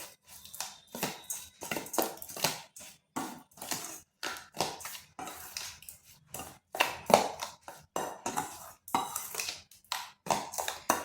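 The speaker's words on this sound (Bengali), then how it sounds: "এরপর এগুলো ভালোভাবে মিশিয়ে নিচ্ছি।" Yogurt, semolina, sugar and salt being mixed in a bowl, a series of short scraping, clinking strokes of a spoon against the bowl in uneven bursts, close and fairly quiet, with no talking.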